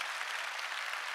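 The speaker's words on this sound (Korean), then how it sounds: "박수 한번 해주세요" Church congregation clapping at a Friday evening worship service, a soft, even patter of many hands heard from some distance, steady and unbroken.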